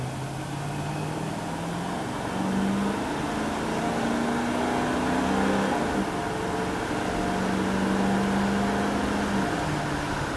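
A 1980 Chevrolet Camaro engine drones and climbs in pitch as it accelerates to 60 mph, easing off and building again through gear changes into third, heard from inside the cabin.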